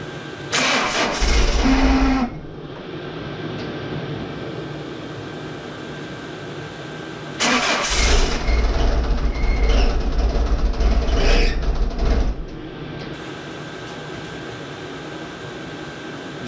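A car engine cranks after a DIY timing belt job. A short loud cranking burst is followed by a pause, then a longer, sustained cranking attempt that runs for several seconds before settling back to a steady idle-like hum.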